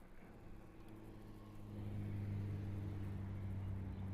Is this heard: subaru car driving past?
yes